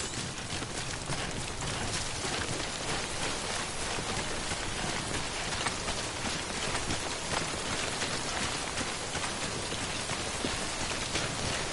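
Steady, dense rainfall (timefall) pours down in the video game Death Stranding, a loud continuous hiss with no break and no speech.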